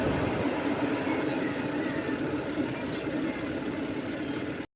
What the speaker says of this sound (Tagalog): yan ang nagpapaikot dyan ay spin motor